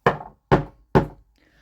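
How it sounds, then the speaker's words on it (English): Three firm knocks pound against a teenager's bedroom door in an evenly spaced rhythm, each a sharp thud with a short decay, close and loud, followed by a faint hum. "a knock pounded against Shinso's door"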